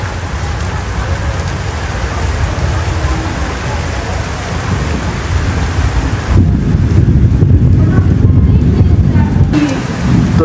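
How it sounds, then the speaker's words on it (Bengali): Heavy rain pours steadily during a storm in Ward 4 of Patharghata municipality, with a deep low rumble of thunder and gusty wind buffeting close by, growing slightly louder toward the end. "হঠাৎ করে 4 নং ওয়ার্ডে এভাবেই আসলে বজ্রপাত হয়"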